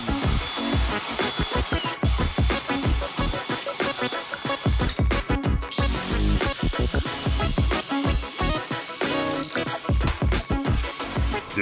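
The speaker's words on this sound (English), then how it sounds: "I'm gonna drill these holes out in countersink, and we'll put some hardware on it and skate it" Power drill countersinking holes in a metal skateboard deck, a loud, continuous whining grind broken by rapid rattling chatter as the bit bites into the metal.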